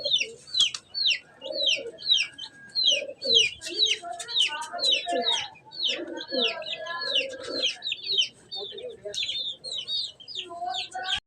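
Pigeons coo in low repeated calls on a hot day, while other birds chirp busily overhead, with a few brief rustles that may be wingbeats, continuous and fairly close.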